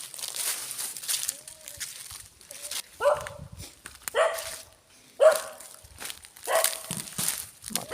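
A dog barks a handful of times at a moderate distance, single sharp barks spaced a second or so apart, with rustling and footsteps around.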